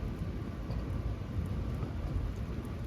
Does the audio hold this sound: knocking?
no